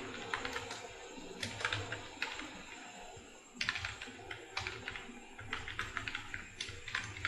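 Steady typing on a computer keyboard, quick irregular key taps in bursts with brief pauses, fairly close but quiet against a low background hum.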